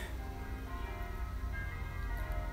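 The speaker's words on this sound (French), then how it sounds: "c'est des cloches de genre, c'est quoi de dire, il y a un mariage" Church bells ringing for a wedding, a dense steady clangor of overlapping tolls with rich sustained overtones that stays constant and moderately loud throughout, with no voices.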